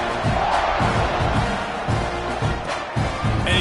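A football stadium crowd cheers before kickoff of a KML vs UTSA game, a dense, steady roar of many voices with surges rising and falling throughout.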